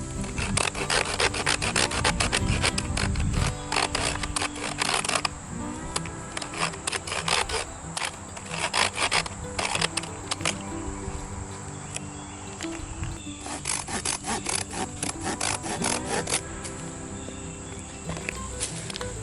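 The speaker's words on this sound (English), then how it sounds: "We're gonna start with a cheap folding saw." Cheap folding hand saw cutting through a piece of wood with rapid, steady rasping strokes, close and loud, continuing for nearly twenty seconds with brief changes in pace.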